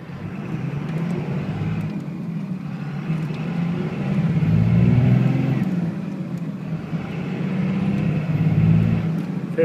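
A 2001 Dodge Ram 2500 2nd-gen Cummins diesel pickup with six-speed manual climbs a big hill, a steady low engine drone that swells and eases as it pulls, heard from inside the cab.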